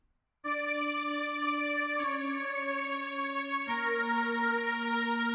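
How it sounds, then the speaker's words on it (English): A sustained choir patch from the Sector synth in FL Studio sounds alone, holding three successive chords with a clean, bright vocal tone and no talking. "So now I'm in sector synth, and I got this choir."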